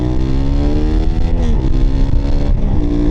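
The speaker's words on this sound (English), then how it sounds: "when you do rev it out a little bit more, there's a lot of induction noise" A Honda Hornet 750 motorcycle engine revs up and down repeatedly, its pitch climbing and falling with a throaty intake roar, loud and close.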